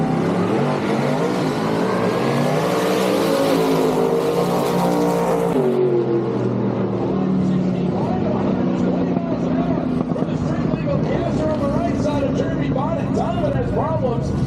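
A loud, roaring gasser drag race car engine blasts at full throttle down the strip and then drops away, with an announcer talking over the noise.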